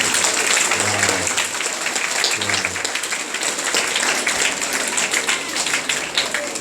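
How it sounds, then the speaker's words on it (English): A church audience breaks into a round of applause, dense steady clapping filling the whole stretch at full level, with a couple of brief low voiced bursts near the start. "Give your hands out a round of applause."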